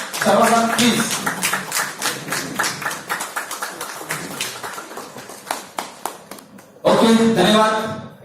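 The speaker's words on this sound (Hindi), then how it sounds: "जोरदार तालियों से सामने का स्वागत करेंगे सर" An audience at a seminar in Gujarat claps loudly to welcome guests, bursts of many hands that thin into scattered individual claps and taps, then break out again into a loud full round near the end.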